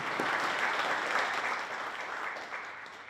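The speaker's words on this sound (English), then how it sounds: "Can we give them a round of applause?" At the Eagan State of the City Address 2025, a crowd applauds city council members with a full, even burst of clapping that holds steady, then gradually thins and softens.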